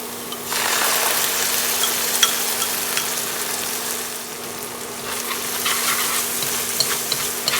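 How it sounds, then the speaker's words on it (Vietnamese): A steady, loud sizzle of shrimp roe stir-frying in a pan, with continuous stirring and scraping and a faint hum underneath. "Mình đảo cho gạch tôm chín."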